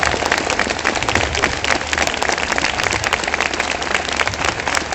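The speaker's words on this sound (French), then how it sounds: "Sous vos applaudissements, les villageois." Audience applause for the villagers at a church play marking fifty years in Yvetot, a dense, steady wash of clapping filling the whole stretch without pause.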